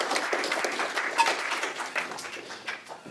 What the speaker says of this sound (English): And now let's give the applause.